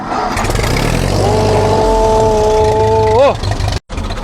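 Massey Ferguson diesel tractor engine cranking and catching, then settling into a steady idle with a sustained tonal drone that bends briefly near the end, loud and close, with voices around it.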